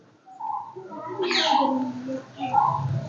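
Caged pigeons and lovebirds in a garden inside Udayagiri Fort give close, soft cooing calls in a short rolling sequence, with a faint chirp mixed in.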